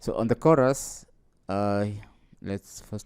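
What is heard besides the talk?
No everyday noises stand out.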